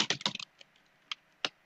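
Close computer keyboard typing while writing code, a rapid burst of keystrokes followed by a few isolated, separated key presses.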